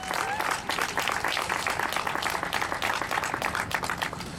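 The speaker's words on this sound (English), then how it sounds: "So give yourselves a big round of applause." A crowd at an outdoor climate rally gives itself a big round of applause, thick continuous clapping that stays strong and even throughout.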